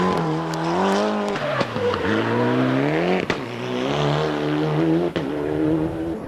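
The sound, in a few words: rally car cornering a first gear hairpin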